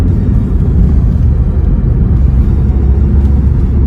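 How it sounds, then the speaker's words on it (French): Audi A1 Sportback with a TDI diesel engine running, a steady loud low rumble holding evenly throughout with no voices. "Le TDI s'enclenche."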